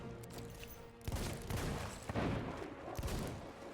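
Gunfire in the pirate game Sea of Thieves comes as a cluster of booming shots and blasts over rumbling background noise, fairly loud and irregular across a few seconds.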